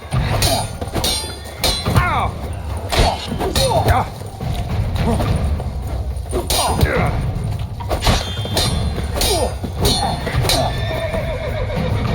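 Horses in The Witcher 3 video game whinny and clop their hooves amid clanking and commotion, loud and close, with characters' voices shouting over the scene.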